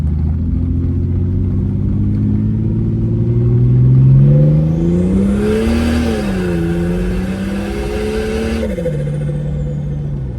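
Turbocharged Barra engine in a Patrol with a screamer pipe revving hard on a dyno, a loud droning roar that climbs, wavers and settles, with a hissing rush toward the end.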